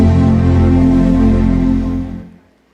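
An Apple computer's startup chime rings out as a single loud, rich sustained chord that holds for about two seconds before fading to silence.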